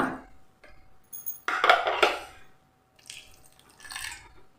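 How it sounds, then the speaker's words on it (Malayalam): A little hot water is poured into raw rice in a bowl for appam batter, making short splashing bursts mixed with light clinks of the container, close and fairly quiet, with no talking. "ഇനി ഇതിലേക്ക് നമ്മൾ ചെറിയ ചൂടുവെള്ളം ഒരുപാട് ഒഴിക്കണ്ട"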